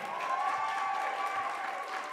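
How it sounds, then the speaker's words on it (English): Audience applause at a livestreamed church band performance after a singer's first solo, a steady moderate wash of clapping through the whole stretch, somewhat distant and soft, with a faint sustained tone riding over it. "can we get one more like giant round of applause for Jenna and Kirsten"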